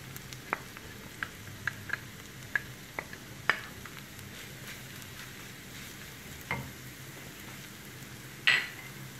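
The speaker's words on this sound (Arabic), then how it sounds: "ملي غتبدا تذوب الزبده غادي نضيف خيزو او الجزر" Carrots sizzle faintly in melted butter in a pan, a quiet steady crackle broken by a few sharp clicks and taps of a utensil, with one louder scrape near the end.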